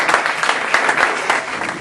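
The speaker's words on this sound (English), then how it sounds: "Huge round of applause." Applause from a conference audience at an evening leadership event, a steady burst of clapping for under two seconds, dense and fairly close.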